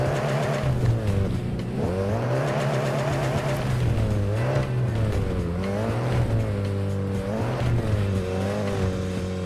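A video-game car engine drones steadily with rising and falling revs as the car drives and splashes through water, loud and continuous throughout.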